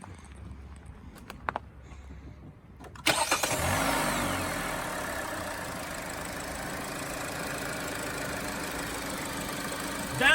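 A 2020 Hyundai Elantra engine cranks and catches after a few seconds of quiet handling clicks, then settles into a steady, fairly quiet idle that runs on evenly to the end.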